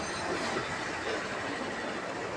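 A train passing makes a steady rumbling roar with faint rhythmic clatter of wheels, continuous and moderately loud for the whole stretch.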